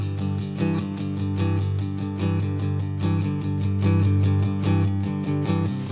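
Electric guitar strums a steady shuffle rhythm over a twelve-bar blues progression, with evenly spaced chord strokes, played alone and close.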